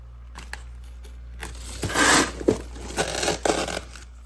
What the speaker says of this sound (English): let's go bag up the chicken wings